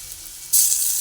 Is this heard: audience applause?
no